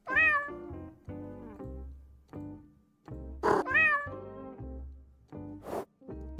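A cat in the Judge Simulator video game meows several times, clear and close, in two groups of rising and falling calls with short pauses and a couple of sharp clicks between them.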